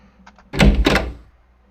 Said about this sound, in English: Somehow the pig opened the door.